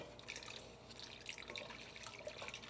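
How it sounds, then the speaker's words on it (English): Chicken broth for Jamaican brown stew chicken pours into a pot on the stove, a faint, steady liquid splash and trickle with small drips, heard alone without talk. "Now I'm gonna put my broth in there."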